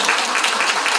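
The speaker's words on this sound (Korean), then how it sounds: "박수 받은 일은 아니고" An audience at a live public broadcast claps in dense, steady applause, a loud wash of many hands throughout the brief moment.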